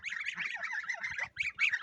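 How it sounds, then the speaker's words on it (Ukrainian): A cluster of ducklings in an outdoor cage peeps and chatters continuously, high-pitched overlapping calls close by, with a brief pause near the end. "Каченятка у нас тут на дворі, у клітці закриті"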